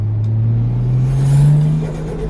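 A Toyota JZX100's engine revs up through a loud, throaty HKS Hi-Power aftermarket exhaust, its pitch climbing steadily and then easing back, close by with no talking.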